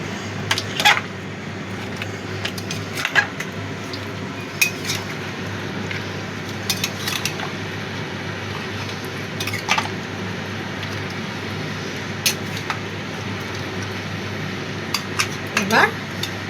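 Mutton curry with a thin red broth is stirred in a pot, with scattered clinks and scrapes of a spoon against metal over a steady background hum.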